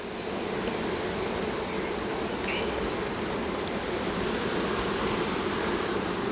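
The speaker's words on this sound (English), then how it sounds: "There's just bees everywhere." Honeybees swarm thickly around an opened beehive full of capped brood, a dense, continuous drone of many wings close by that holds steady throughout without a break.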